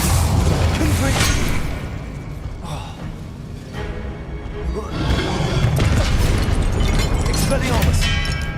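Booming blasts from the Confringo spell in the video game Hogwarts Legacy, loud rumbling explosions that swell, ease off briefly and surge again amid ongoing combat noise.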